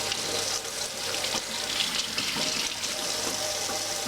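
Tap water running steadily into a sink while cucumbers are washed for dill pickles, a continuous close splashing stream with small shifts as the cucumbers pass under it.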